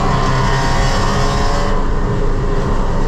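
A race car engine drones loud and steady from inside the car at Lime Rock in the rain, held at full throttle with a dense, continuous roar and a slight shift in tone partway through.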